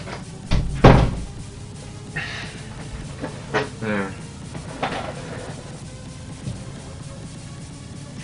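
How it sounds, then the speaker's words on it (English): A door in a survival video game is tried, a sharp knock or rattle followed by creaking, scraping movements of the door, with faint voices talking quietly in the background. "Trying to open the door."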